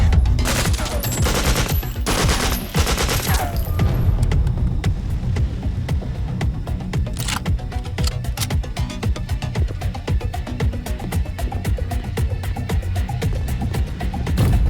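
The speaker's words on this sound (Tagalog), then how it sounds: "Mga putok ng baril yan, ah." Rapid gunfire rattles on continuously, dense bursts of shots layered over a heavy rumbling background.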